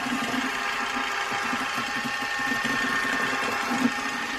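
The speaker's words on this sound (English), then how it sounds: "Now this is a brand new mixer" A brand new electric mixer runs continuously as cupcake batter is mixed, a steady whirring motor hum with a buzzing tone, close and fairly loud, with no talking.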